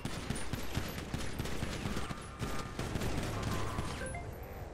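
Sustained gunfire from a roleplay video game, rapid bursts of shots overlapping in a dense, continuous barrage that stays loud throughout with no talk.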